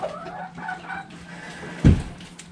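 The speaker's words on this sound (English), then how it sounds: "Chickens, chickens, chickens." Backyard chickens, including a laying hen, cluck softly and sporadically at close range, with one dull thump partway through and no one speaking.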